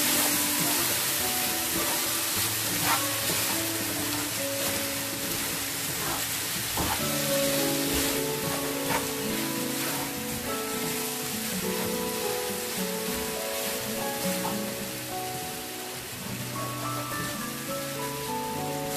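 Apples cooking in caramel in a pan, a steady close sizzle and bubbling with scraping stirring sounds throughout.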